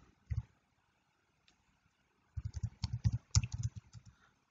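Typing on a computer keyboard, a short tap followed after a pause by a quick run of soft, close keystrokes in a quiet room.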